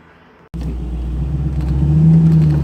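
MGB Roadster engine cutting in suddenly after a quiet moment, then a loud, close, steady low rumble that swells slightly as the car drives off.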